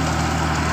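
Farmtrac 60 tractor pulling an 8-foot Shaktiman super seeder in a field, its diesel engine giving a steady, close, unbroken low drone with no talk over it.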